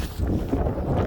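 Gusts of wind buffet a microphone outdoors, a low, rumbling, fluttering blast that stays fairly loud and uneven for about a second.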